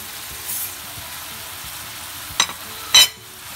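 Peppers drop into a pan of frying liver, which already sizzles with a low, steady hiss, and two short, sharp bursts of spatter follow near the end.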